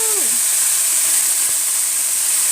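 Vinegar stirred into caramelized onions in a hot pan, giving a steady broadband sizzle and hiss throughout, with a brief voice-like tone at the start.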